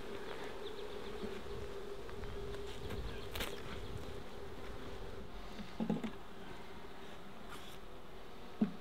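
Honey bees from a hive built inside an old tyre in the bush hum in a soft, continuous drone, faint and steady, with a few brief bumps and knocks.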